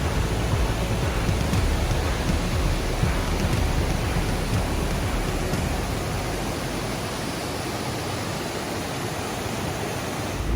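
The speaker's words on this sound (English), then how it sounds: "We've never been in rain like this before. And it's just not stopping" Heavy, unrelenting rain pours down during an overnight hike in Middle Prong Wilderness, a dense, loud wash of noise that holds steady and close throughout with no voices.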